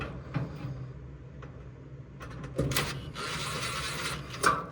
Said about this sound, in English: now we're gonna put our top screw.